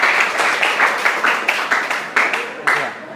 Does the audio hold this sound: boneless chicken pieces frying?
no